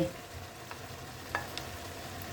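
Pork with cabbage, carrot and onion is stir-fried in a pan, giving a soft, steady sizzle with a few faint scrapes of stirring, heard fairly quietly and alone.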